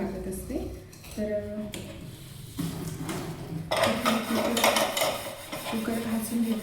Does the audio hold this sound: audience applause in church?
no